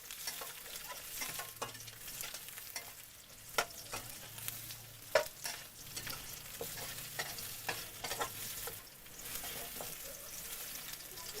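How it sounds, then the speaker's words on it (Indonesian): Garlic and ginger sizzling as they are stir-fried in hot oil, with steady frying crackle and repeated scraping stirs of a utensil in the pan, fairly quiet and close, no talking. "Kita tumis sampai harum."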